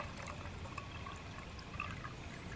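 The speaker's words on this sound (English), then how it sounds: "I've got to put some more water in this." Water pours from a container into a pot on a camp stove outdoors, a steady continuous trickling and splashing wash lasting a few seconds, close by with no talk.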